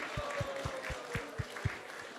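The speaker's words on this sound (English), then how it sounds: "let's give a big round of applause to everyone who has joined us tonight here" Audience applause at an evening Krishna Katha gathering, a brief burst of clapping with regular low thumps under a steady crowd wash, fairly close and moderately loud.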